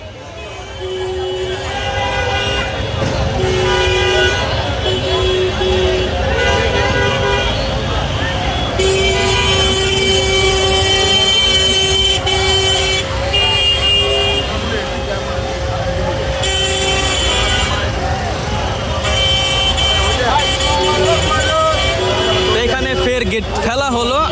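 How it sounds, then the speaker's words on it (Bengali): A Benapole Express or Narayanganj Commuter train sounds its horn in long, repeated blasts while approaching the crowded Jurain level crossing on the Dhaka–Narayanganj line. A dense crowd roars and chatters continuously beneath it. "ঢাকা নারায়ণগঞ্জ সেকশনের অবস্থা পুরো মানুষ দিয়ে ভরা সামনে থেকে আসছে ট্রেন"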